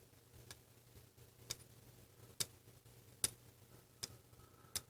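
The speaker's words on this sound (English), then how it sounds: "That is the sound of my fingernail clicking on the step." Fingernail clicking on the step of Preciva digital callipers: about seven sharp, faint ticks spaced irregularly, heard close up against a quiet low hum.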